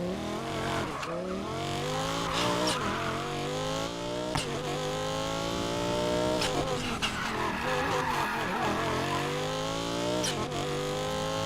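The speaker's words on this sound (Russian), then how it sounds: "Хотел красиво в первом повороте боком заложить. Передержал ручник, как обычно." An off-road SUV in Need for Speed Payback slides sideways on a held handbrake, the engine revving and shifting through rising, falling pitch sweeps while tires squeal and skid repeatedly, loud and continuous throughout.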